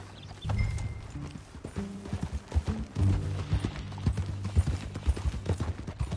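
Rhythmic clip-clop of horse hooves in Red Dead Redemption, up close, steady and fairly loud, with low rumbling background and a brief whinny-like tone.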